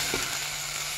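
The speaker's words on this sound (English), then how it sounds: "Fry finely chopped onions until soft." Finely chopped onions sizzling in a pan, a steady close hiss of frying for about a second with no voices.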